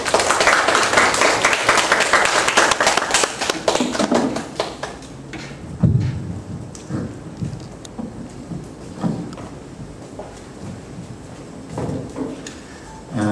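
Dense audience applause at a lecture on children's education in Korea, loud and sustained for about four seconds before thinning into scattered individual claps that fade out over the following seconds.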